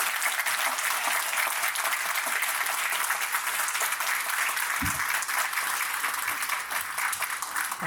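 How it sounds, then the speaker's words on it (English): Audience applause at a mental health panel discussion: a continuous, even wash of many hands clapping, full and close for the whole stretch, with no voices rising above it. "round of applause for all of you in the audience"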